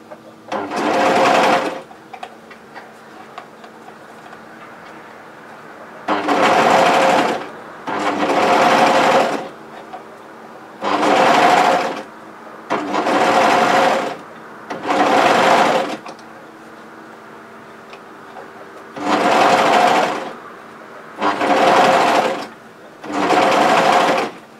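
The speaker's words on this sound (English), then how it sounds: "slide it up to your overlocker. Remember to remove all pins. And overlock that cuff seam into place." Overlocker stitching a sweatshirt cuff seam, heard as eight close, loud bursts of rapid mechanical whirring, each about a second long and separated by short quiet gaps, with no talk.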